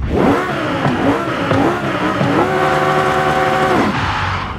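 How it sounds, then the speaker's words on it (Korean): A tuned 1200-horsepower video game car with altered gearing and a changed exhaust note revs loudly and close up, its pitch rising and falling, then holding a steady high drone before dropping away. "배기음이 살짝 바뀌었어요"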